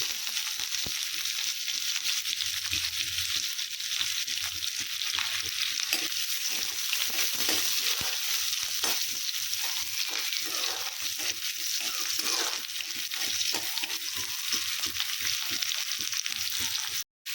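Sliced onion with two dried and two green chilies sizzling in a little hot oil, a continuous loud crackling fry with brief stirring scrapes, running steadily with no talk until it cuts off abruptly.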